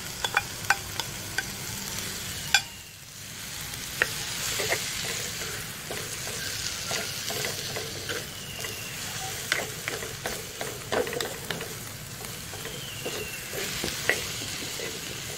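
Wel kohila leaves stir-fry in a pan, a steady close sizzle broken by frequent scraping and clinking of the spoon against the pan.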